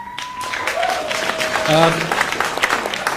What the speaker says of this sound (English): please withhold your applause